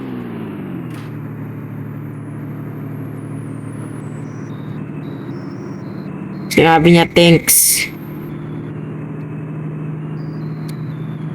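A steady low engine drone from a Roblox car runs through the scene, with people talking over it and a brief burst of louder sound partway through.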